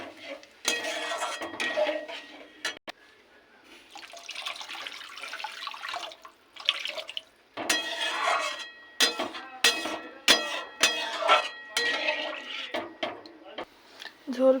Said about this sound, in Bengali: এবার দিয়ে দেবো জল, দেবো পরিমাণ মতো জল।